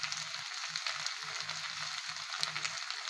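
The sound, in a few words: Labeo calbasu (kalibaush) fish frying in pan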